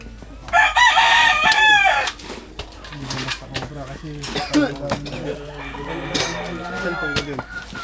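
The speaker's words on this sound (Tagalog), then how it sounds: "Ito po ay farm ng mga manok." Chickens and a rooster on a chicken farm, with loud crowing near the start followed by steady clucking and squawking from several birds, close by, over background noise.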